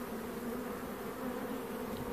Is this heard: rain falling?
no